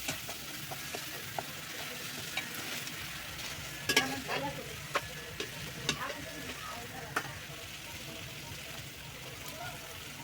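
Potatoes fry in a small amount of oil, giving a steady, quiet sizzle with scattered ticks and scrapes of stirring over the full length.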